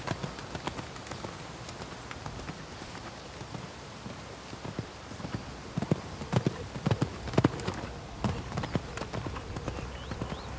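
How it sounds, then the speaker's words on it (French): Horse hooves thudding on a show-jumping course, a quiet run of irregular clip-clop beats that grows louder toward the end as the horse approaches and lands. "Il saute de mieux en mieux, le cheval."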